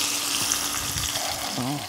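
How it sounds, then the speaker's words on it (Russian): Loud frying sizzle of meat in a very hot pan, steady crackling, and a brief voice appears near the end over the hiss. "Моментально разогретая сковородка, моментально мясо прихватывается."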